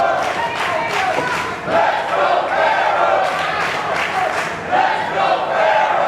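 A wrestling crowd at Bash at the Brew 20 in Hialeah, Florida roars and cheers for Chris Farrow during his match against Blake Banks, loud and sustained with surges, voices shouting throughout.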